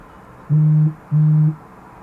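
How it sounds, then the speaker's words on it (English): A mobile phone sounds off in two identical, evenly spaced electronic bursts, each a steady low buzzing tone lasting under half a second, clear against a quiet room. "I don't know if you can hear that, but my phone is going bananas."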